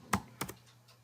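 A few computer keyboard keystrokes during HTML coding: one sharp click, then a quick pair of clicks, close and clear over a faint steady hum, with no talking.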